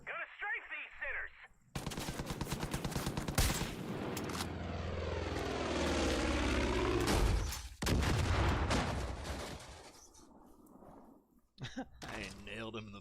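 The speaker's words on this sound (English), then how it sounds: "Gonna strafe these sinners!" Heavy, rapid machine-gun fire from a strafing aircraft in Far Cry 5 rattles over a droning, sweeping engine roar, loud and sustained, with voices speaking briefly at the start and end.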